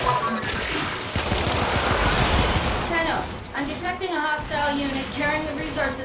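Turret gunfire in the video game Warframe rattles in a dense, rapid burst through the first half, then continues under overlapping voices of players talking.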